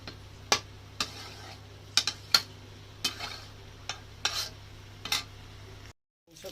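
Meat and potatoes dry-stirred together in a pan without water, with a low steady sizzle under a series of sharp scraping and clinking strokes of a spoon against the pan, ending in a brief silence.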